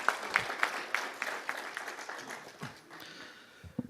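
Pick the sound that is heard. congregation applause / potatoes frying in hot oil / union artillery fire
congregation applause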